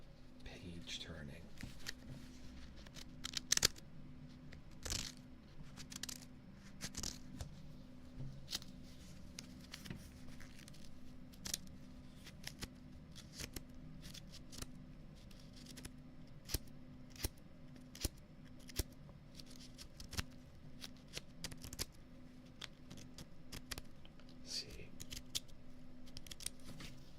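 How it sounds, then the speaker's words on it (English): Book pages are flipped one after another in quick, irregular crisp rustles, soft and close, over a quiet background hum. "page turning."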